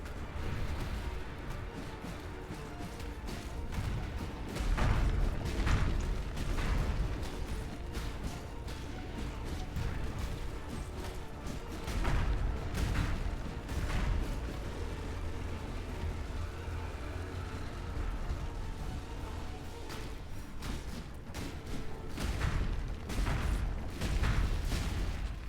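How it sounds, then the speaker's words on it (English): Repeated explosions from a skill in the video game Path of Exile, a run of bursts and crashes spread across the clip, some clustered in quick flurries, moderately loud over a rumbling game background. "I need that explosion for the clearing"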